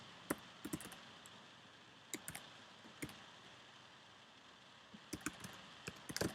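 Keys clack on a computer keyboard in short quiet bursts of several taps separated by pauses, close and alone without talk.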